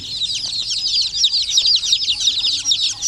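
A crowd of day-old purebred Basilan chicks peeps nonstop, a dense, shrill chorus of overlapping high chirps heard up close.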